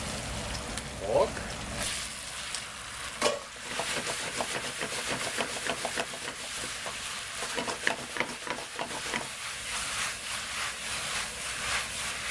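Pork for twice cooked pork fries over a high flame, a dense crackling sizzle punctuated by repeated scraping and tossing of a spatula in the wok, close and continuous.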